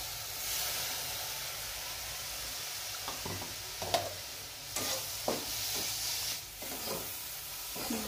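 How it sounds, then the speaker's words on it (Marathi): Coconut roasting in a pan on low heat, a soft continuous dry sizzle with scattered stirring scrapes and light taps of a spoon throughout. "खोबरं असं ब्राऊन होईपर्यंत चांगलं भाजून घ्यायचं कमी गॅसवर"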